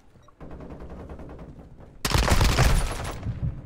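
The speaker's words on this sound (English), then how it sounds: "He's using the AK-74U." AK-74U fire in Modern Warfare 2: a quick run of rapid automatic shots rattles off, then a much louder, denser close burst erupts and rings out before cutting off.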